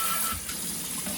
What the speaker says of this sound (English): Let's rinse this bit off.